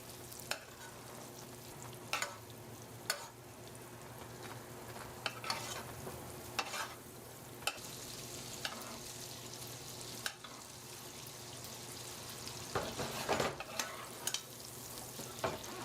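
Steak in a hot pan is basted with melted butter, thyme and garlic, a steady soft sizzle punctuated by repeated spoon clinks and scrapes against the pan at uneven intervals, close and with no voices.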